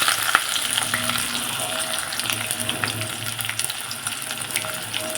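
Chopped onion frying in hot tempering oil with whole cardamom for a mutton dish, a steady broadband sizzle with frequent crackles and occasional stirring scrapes throughout.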